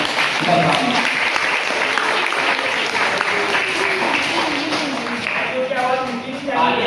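Audience applause at a school Teacher's Day prize giving as a child collects an award. Loud, sustained clapping continues throughout, with voices and talk underneath.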